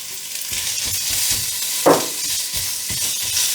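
Meat frying in a pan with ginger, onion and green onion, giving a steady close sizzle with light stirring scrapes and one brief louder clink partway through, no voices.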